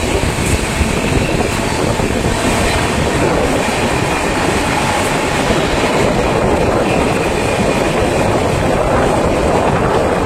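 Garib Rath Express train, just out of Dum Dum station at about 87–89 km/h, rumbles loudly with a continuous rush of wheels and rattling carriages, heard from on board with no talk.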